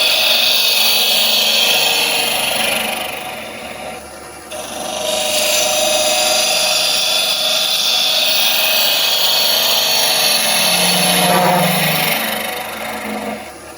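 A wood lathe hollows out a goblet with a steady rasping, scraping hiss of a tool cutting spinning wood, easing briefly partway through before resuming loud and continuous.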